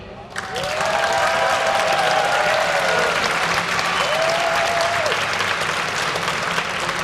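A live esports crowd at a DreamHack League of Legends stage in Sweden breaks into sustained applause and cheering, loud and steady throughout, with a commentator's voice faintly audible at the start.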